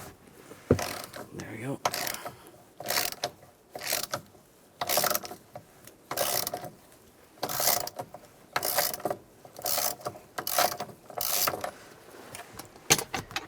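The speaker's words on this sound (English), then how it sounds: "Now I'm going to loosen this nut up. I'm going to use a 21mm socket." A ratchet turns a 21mm socket to loosen the steering wheel nut on a 2007-2013 Chevrolet Silverado, rattling in a dozen short repeated bursts with pauses between, close up, and a brief spoken remark.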